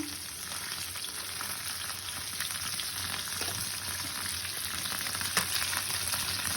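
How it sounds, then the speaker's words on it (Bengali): Bhola fish fries in a pan of hot oil, giving a steady, close crackling sizzle that runs unbroken throughout with a few sharper pops, and no voices are heard. "এত রাতে আমি ভোলা মাছ ফ্রাই করছি"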